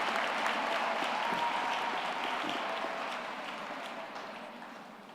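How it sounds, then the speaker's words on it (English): A graduation ceremony audience gives graduates a collective round of applause, a broad, crowd-wide clapping that stays full for a few seconds and then gradually fades. "Can we please give them a collective round of applause for their achievement?"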